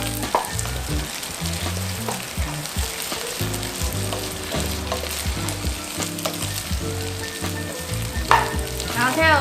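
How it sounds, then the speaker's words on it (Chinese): Potato and carrot pieces pan-fry in hot oil for a vegan Japanese-style stew, giving a loud continuous close sizzle with crackling bursts and scraping stirring sounds of the pan throughout. "我们就可以把那个马铃薯跟红萝卜也放进来，把它煎一煎。"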